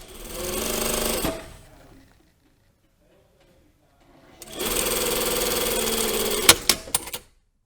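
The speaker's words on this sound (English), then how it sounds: "we literally just lifted up the pocket bag and we're sewing it on underneath" Sewing machine stitching a pocket bag onto a double welt pocket, heard in two loud, close bursts of rapid mechanical whirring separated by a few seconds of quiet, the second ending in several sharp clicks.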